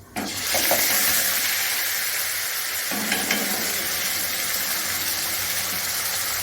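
Ginger garlic paste frying in hot oil in a pan, a loud steady sizzle with stirring scrapes, continuous and close throughout.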